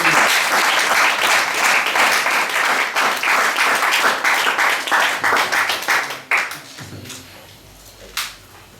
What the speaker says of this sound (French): Est-ce qu'on peut acclamer Jésus, s'il vous plaît?